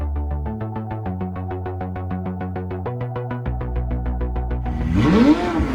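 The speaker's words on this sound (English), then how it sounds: "that sound is created by a full titanium system that weighs less than half of the weight of the standard exhaust." A McLaren 675LT Spider engine bellows through its full titanium exhaust, holding rapid throbbing pulses that step up in pitch before surging into a louder, raspier rev near the end, close and alone.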